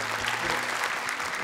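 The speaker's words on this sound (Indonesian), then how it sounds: "Tepuk tangan untuk Lukman." A studio audience on an Indonesian Quran memorization children's TV show applauds for a contestant named Lukman, a loud, dense, continuous burst of clapping from a crowd, brief and close.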